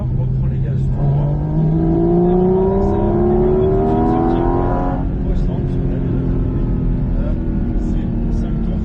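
A Porsche 718 GT4 RS engine screams up through the revs on a race circuit, its rising pitch climbing in several sweeping pulls before easing off, loud and close throughout.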